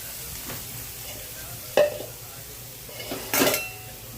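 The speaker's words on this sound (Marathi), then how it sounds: "पाच मिनटं तरी हे वाटण भाजू द्यायचं चांगलं तेलामध्ये." Ground masala paste roasts in oil for a fenugreek-leaf bhaji, a low steady sizzle beneath two sharp scraping stirs of a spoon against the pan. No one speaks.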